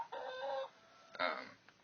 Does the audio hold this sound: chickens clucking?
yes